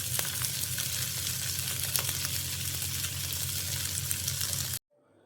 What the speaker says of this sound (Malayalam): ഇനി ഇത് മറിച്ചിട്ട് വറുക്കും